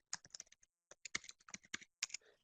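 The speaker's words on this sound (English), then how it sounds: "You just have to type in your address" An address is typed on a computer keyboard in quick, crisp, close keystrokes that arrive in uneven clusters with a brief pause, heard clearly in otherwise near silence.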